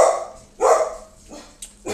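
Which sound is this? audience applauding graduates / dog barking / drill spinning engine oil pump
dog barking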